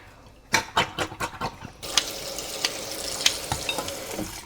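Nopalitos poured into a hot pan give several splashy thuds, then settle into a steady crackling sizzle with sharp pops, close and fairly loud.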